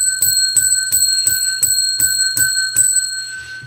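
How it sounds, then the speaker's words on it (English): A ringing bell is struck in a fast, even series of bright metallic dings, each with a short sustain, close and loud with no talk over it. "I always ring the bell 10 times when we get to 100 thumbs up."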